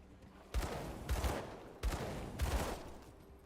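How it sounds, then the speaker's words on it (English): The hand cannon of corrosion fires in the video game Grim Dawn, giving several heavy booming shots with rumbling tails in a steady, spaced rhythm. "The hand cannon of corrosion is a great addition to your arsenal."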